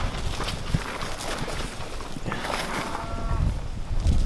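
Cattle on a farm during chores after a historic Oklahoma ice storm, with a low moo-like lowing rising near the end over steady outdoor noise, plus a few soft thuds and hoof-like knocks nearby.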